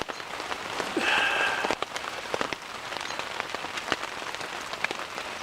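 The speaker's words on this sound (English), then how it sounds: "It's raining right now" Morning rain falls steadily at a riverside canoe campsite on the Moose River, a continuous soft hiss broken by close, irregular drops tapping nearby surfaces.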